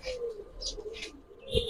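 Black-tailed Giribaz pigeons coo softly at close range in short, throaty bursts, with a couple of brief higher chirps among them.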